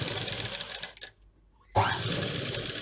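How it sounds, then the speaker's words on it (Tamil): A sewing machine stitches a double-layer fabric face mask with a fast buzzing whir that halts briefly, then starts up again, close and steady. "இதை தைக்கலாம்."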